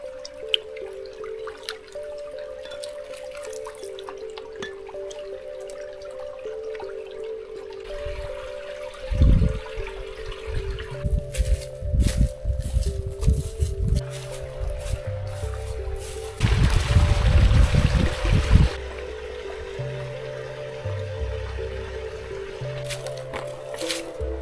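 Water being collected from a creek on a backpacking trip, with squishing, dripping and trickling sounds as a container fills, the louder splashy bursts coming midway and near the end over a steady background hum.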